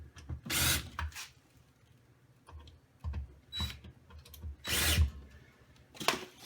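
Power drill driving screws into the front panel of a Seaga HY900 vending machine, heard as short close whirring bursts of about half a second each, several in irregular succession, with clicks and handling noise between them.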